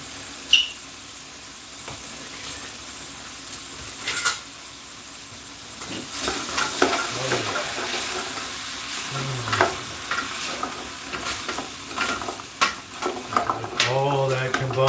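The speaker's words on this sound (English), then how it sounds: "Let's give that an initial stir." Food stirred in a hot frying pan, a steady sizzle under scraping strokes of the spoon that come in bursts, close and moderately loud, with no talking.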